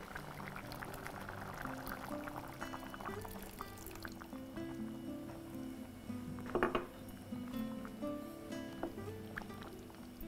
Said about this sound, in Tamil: இப்போ இதில் இன்னும் கொஞ்சம் தண்ணி சேர்த்துக்கோங்க.